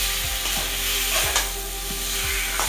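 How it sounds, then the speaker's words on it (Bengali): Egg curry masala with onion paste and turmeric being sautéed in a pan, a loud close sizzle with regular rhythmic scraping strokes about every half second, steady throughout and without speech. "একটু হলুদ গুঁড়ো দিয়ে দিল। এবার কষিয়ে নিচ্ছে।"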